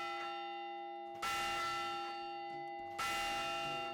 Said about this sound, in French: La cloche fonctionne sensiblement de la même manière, avec un câble et un levier qui lèvent le marteau avant de frapper la cloche.